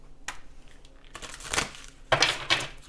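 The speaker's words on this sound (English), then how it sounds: "I'm going to shuffle on camera for this." Oracle cards shuffled by hand, giving close, fairly loud bursts of papery riffling and flicking separated by short pauses, with no talking.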